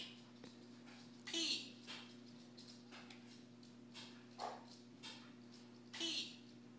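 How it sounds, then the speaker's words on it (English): A puppy barks and yips in short bursts from a tablet speaker, faint and small-sounding under a steady electronic hum, with a child and an adult talking quietly between the barks. "What is that, a puppy on the iPad?"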